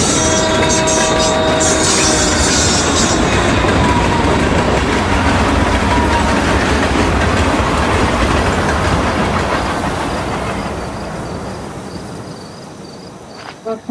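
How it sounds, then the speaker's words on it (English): A train passes loudly in the video game Life is Strange: Before the Storm, its rumble and clatter filling the scene before slowly fading away at the end. "She has a thing for trains,"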